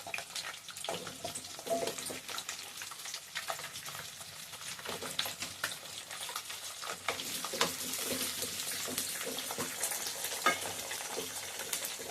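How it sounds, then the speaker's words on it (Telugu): Indian gooseberries frying in about a quarter kilo of moderately hot oil in a pan, a steady soft crackling sizzle that grows slightly denser over time, heard close with no talk. "కొంచెం వేడైనాక ఈ కాయలు వేసుకోవాలి"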